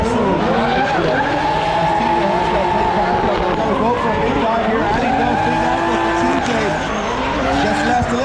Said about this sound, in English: Trevor's got some grip in that Drift HQ Corvette